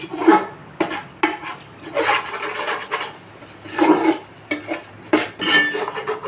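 A ladle stirs egg biryani masala with coriander powder in a metal pot, producing repeated close scraping and clanking strokes in uneven bursts with brief pauses between.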